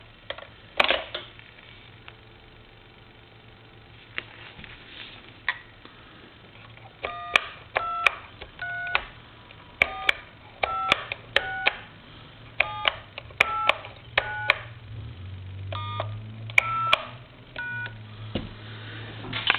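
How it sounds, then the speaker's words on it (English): A touch-tone telephone on a converted UK British line sounds a series of clear dual-tone dialing beeps, short evenly spaced tones in quick clusters over a low steady hum, with faint handling clicks in between and no speech. "We have a touch tone phone here now."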